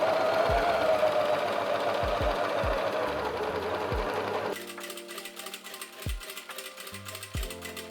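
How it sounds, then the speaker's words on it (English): An overlocker serger runs in bursts while finishing the top and bottom fabric edges of a trumpet skirt, its fast mechanical whir broken by short stops and thumps, close up with no voices. "The top and bottom edges, I'm going to finish on an overlocker first, then fold it up by 1 centimeter and top stitch"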